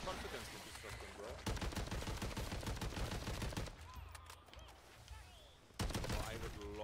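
Shotgun blasts ring out in a video game amid rapid bursts of gunfire, loud and dense, with a lull in the middle before another shot; a voice talks over the action.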